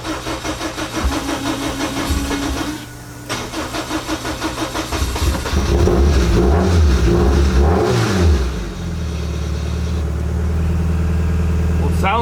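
A Lotus engine with a rebuilt exhaust runs close by, rising through several throaty revs and swells before settling into a steady, burbling idle, with people talking over it.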